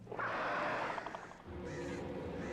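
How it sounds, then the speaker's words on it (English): A crow caws in the video game Alan Wake, giving a loud, harsh, drawn-out call close by. Quieter cawing and a low ambient rumble from the game follow. "Loud bird!"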